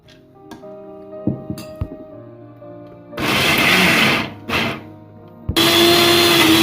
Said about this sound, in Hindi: अब हम दालों को मिक्स करके ग्राइंड करेंगे।